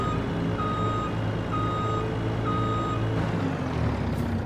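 Truck reversing beeps from the Farming Simulator 25 video game: three evenly spaced steady electronic tones over a low engine drone, moderately loud, with no voices.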